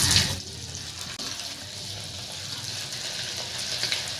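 Anchovies frying in hot oil on a high flame for Nethili 65: a steady, dense bubbling sizzle, loudest at the start as the fish go in, then continuing evenly and close.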